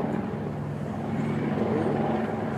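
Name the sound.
helicopter flying overhead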